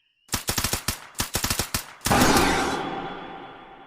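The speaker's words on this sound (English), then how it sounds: "3 quick, silent bursts from both weapons stitched across its head and put the creature down permanently" Rifle gunfire sound effect: several rapid bursts of sharp, loud shots, then a heavier blast that rings out and slowly decays.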